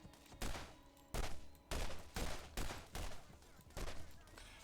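Bursts of gunfire in the shooter game Borderlands GOTY Edition: five or six loud volleys, each a sharp crack trailing into a brief rattling tail, spaced roughly a second apart.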